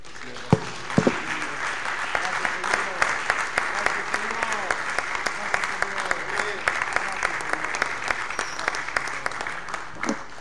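A church congregation claps for the Lord, steady rapid applause from many hands that carries evenly for the whole stretch, with a few sharper claps standing out near the front.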